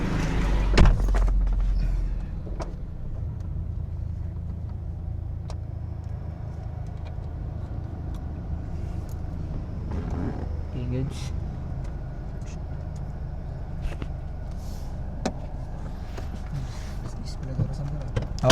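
Honda City car on a road test drive after under-chassis repair, with a steady low engine and road rumble throughout and a brief bump near the start; people talk over it.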